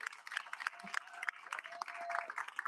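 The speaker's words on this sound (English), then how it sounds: "Give a round of applause again" Audience at a debate event claps in a fairly quiet room, scattered hands with a few sharp close claps and some background voices or cheers mixed in.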